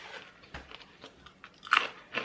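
Crunchy snacks from a June 2020 Degustabox food box being bitten and chewed up close, with a few soft crunches building to two louder, sharp bites near the end; no talking.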